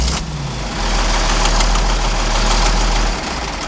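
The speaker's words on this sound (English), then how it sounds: "this tractor does fire right up after you start it" An old 4840 tractor engine catches after a brief crank and settles into a loud, steady close-up idle with a deep rumble and constant rhythmic knock.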